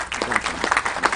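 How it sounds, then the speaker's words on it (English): A crowd at a 2022 Memorial Day ceremony claps steadily for the event's MC, a dense, loud patter of many hands with no pauses. "Give her a round of applause."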